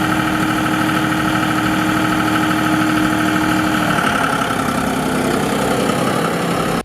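A John Deere 5055E utility tractor engine runs at a steady idle, a loud, continuous mid-to-low drone with a constant hum and no break until it cuts off at the very end.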